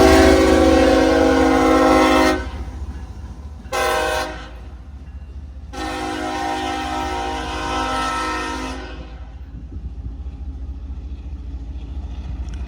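A lone railroad locomotive passes close by, sounding loud, long horn blasts, two sustained and one short in between, over the steady heavy rumble of the engine, which carries on after the horn stops.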